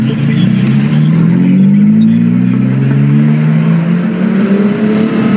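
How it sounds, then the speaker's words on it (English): A turbocharged Honda Accord engine accelerates hard during a street race, a loud, steady mid-pitched drone whose tone rises smoothly as it revs, close and continuous with no talking. "Yeah, turbo Honda Accord."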